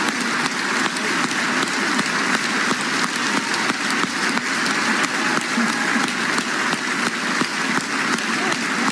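Long, continuous applause for an honorary Palme d'Or winner at the Cannes Film Festival, a large crowd clapping in a thick, unbroken wash that stays loud and even from start to finish.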